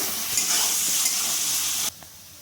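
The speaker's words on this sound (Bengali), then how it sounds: "পেঁয়াজটা আমি এবার লাল করে ভেজে নেব ভালোভাবে" Chopped onions fry in a kadai for masala chicken with a loud, steady sizzle and faint stirring, cutting to a quieter hiss near the end.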